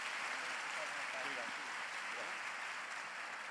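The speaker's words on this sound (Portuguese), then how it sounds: "você pode aplaudir o Senhor Jesus pela vida dele" Church congregation applauding during a service, a steady, even wash of many hands clapping throughout, with faint voices mixed in beneath.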